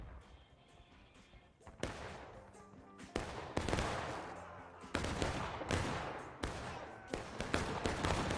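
Repeated artillery and gunfire blasts in a 150-player battle video game, a steady barrage of loud booming impacts roughly every second over a rumbling background of distant shots.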